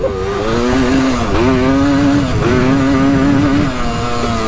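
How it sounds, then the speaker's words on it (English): Close, loud two-stroke howl from a Honda TRX250R ATV revving as the clutch is dumped to spin the wheels, pitch rising and dipping in repeated surges. "Try dumping the clutch here, see if we can spin some wheels."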